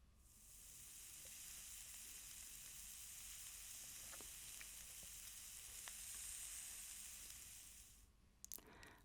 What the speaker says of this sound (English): Did you say a sizzling pan?